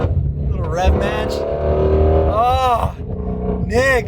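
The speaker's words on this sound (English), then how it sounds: "The way that exhaust note reflects off the canyon walls is just" A Ford Shelby GT350 revving loud and close on a canyon road during a rev match, its exhaust note rising and falling in repeated sweeps under excited talking.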